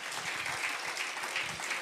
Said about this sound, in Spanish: Give a clap offering to the king, hallelujah.